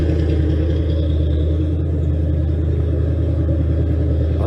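A 1966–1967 Chevrolet Chevelle with an Edelbrock carburetor idles with a steady, deep, lumpy rumble, close and constant with no voices.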